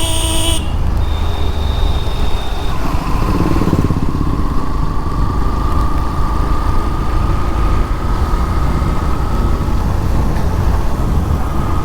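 A motorbike rides along a road in Odisha with a steady, close, continuous engine drone and wind rush, broken near the start by a couple of short horn toots.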